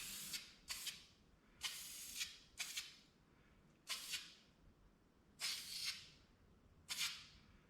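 Short bursts of aerosol or spray-gun spraying on parts being prepped for hail damage repair, about seven separate hissing blasts of a second or less each, spaced irregularly, fairly close, with no talk.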